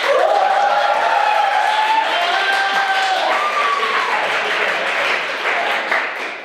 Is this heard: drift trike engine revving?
no